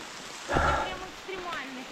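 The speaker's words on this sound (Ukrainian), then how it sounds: "І такий дощака." Heavy rain falls in a forest on the slopes of the Dniester canyon in western Ukraine, a steady close hiss that swells briefly, with a few short voice-like sounds over the wash.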